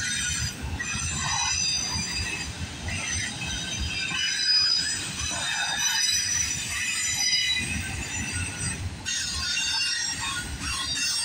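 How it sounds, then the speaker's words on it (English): A CPKC freight train rolls past at a level crossing at Guelph Line in Campbellville, Ontario, its wagons rumbling steadily while wheels squeal in long, shrill, wavering tones close by. "When is this train over yet?"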